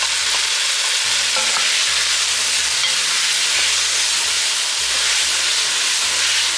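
Chopped onion and garlic sizzle loudly in a hot pan, a dense continuous hiss and crackle close up, with a low rumbling hum underneath and no talking.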